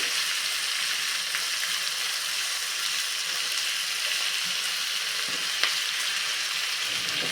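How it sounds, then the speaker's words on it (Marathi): Chopped tomatoes with salt fry in a pan for paneer butter masala, a loud even sizzle that holds steady throughout, with one faint tap near the end and no voices. "त्याच्यावरती लगेचच आपल्याला मीठ घालून घ्यायचं आहे म्हणजे टोमॅटो पटकन शिजले जातात"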